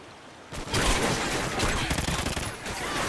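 Rapid bursts of gunfire from a first-person shooter video game, with loud, dense overlapping shots in quick succession after a brief quieter start, with no talking.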